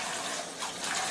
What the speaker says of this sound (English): we're going to take our eggs and we're going to rinse the hot water off, and then we're going to put some cold water on them